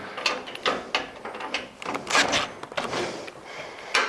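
Bolts on a Hooke Road overland bed rack are tightened with a hand ratchet in a steady run of close, rapid metallic clicking strokes, with brief pauses between strokes.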